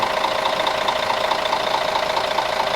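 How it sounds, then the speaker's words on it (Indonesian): Mercedes 2542 engine idling at the rear of a new double-decker bus: a steady, close diesel chug with an even rapid pulsing rhythm, no speech over it. "Nah ini dia mesin Mercy 2542 kalau masih baru ya."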